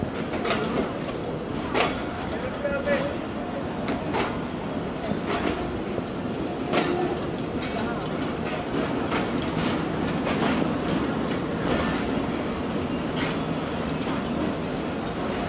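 The Karakoram Express rumbles at a station platform. A steady, fairly loud rolling drone carries regular clicking wheel clacks that repeat every couple of seconds.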